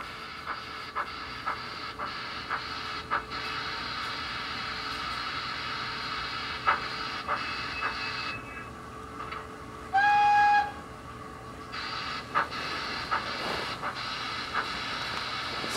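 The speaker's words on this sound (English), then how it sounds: "I'm going to reverse that and blow the whistle" Quiet model train locomotive reversing with a steady hum and clicking track joints, then a short high whistle toot near the middle.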